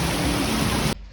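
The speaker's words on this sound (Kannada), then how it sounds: "ಮಳೆ ನೋಡ್ರಿ ಗೈಸ್, ಎಂತ ಜೋರು ಮಳೆ" Heavy rain pours down steadily in Vietnam, a loud, dense wash of noise close to the microphone that cuts off abruptly near the end.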